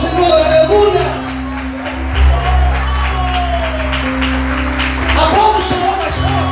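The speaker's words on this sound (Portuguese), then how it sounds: "Você pode aplaudir ao Senhor, aleluia." A church congregation applauds during a worship service, a loose, steady patter of clapping and scattered voices mixed under sustained keyboard or organ chords that run through the whole stretch.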